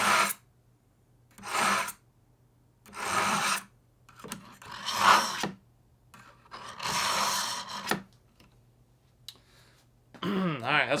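A knife blade is drawn through a cheap Amazon knife sharpener in about six separate rasping strokes, each a short gritty scrape with quiet gaps between them, close and clear.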